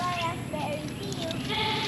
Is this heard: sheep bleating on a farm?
yes